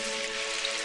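Rain falling in a Doraemon cartoon scene, a steady dense hiss of drops without pause and fairly loud, with no voices.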